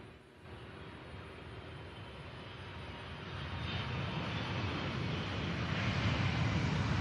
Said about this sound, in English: Beautiful landing.